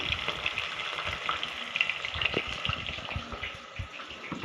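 Onions fry in a pan of oil for palav, a steady bright sizzle with occasional soft scrapes and clinks of stirring, close and continuous with no talking.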